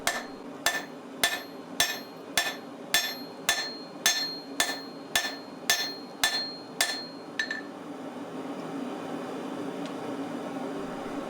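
A hammer strikes a hot steel axe head on an anvil in a steady rhythm of about thirteen sharp, ringing blows, close and clear, followed by quiet room noise.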